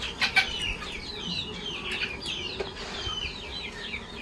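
Desi chickens in a run-down chicken house cluck and chatter in short repeated calls, moderately near, over a soft rustling background with no talk.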